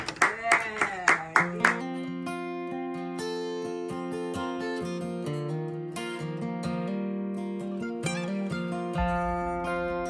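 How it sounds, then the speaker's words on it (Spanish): A group briefly claps in a short burst of about six sharp claps for the grill cook at an asado, then the clapping fades out as sustained tonal music takes over for the rest. "aplauso para el asador"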